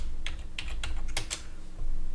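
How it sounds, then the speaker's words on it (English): A short burst of computer keyboard typing while searching for software in Manjaro Linux, with a handful of crisp keystrokes close up over a low steady hum. "You will type in what you want, and you'll see all that's available for you."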